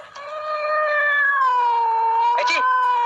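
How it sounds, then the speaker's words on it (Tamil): A cat yowls in one long, drawn-out wavering meow close by, loud and sustained for about three seconds, with a brief rustle near the end. "இது பூனை"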